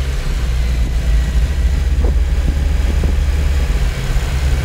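A car engine idles steadily and loudly while Seafoam cleaner is sprayed into the intake, a low continuous rumble with a few faint clicks and brief sputters.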